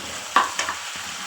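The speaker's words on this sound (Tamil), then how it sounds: "அதோடு சேர்த்து வெங்காயம், தக்காளி இதை நல்லா வதக்கிக்கணும்" Onions and tomatoes sautéing in a pan with spices such as cinnamon and cloves, giving a soft steady sizzle with a few brief stirring scrapes and clinks, close and fairly quiet.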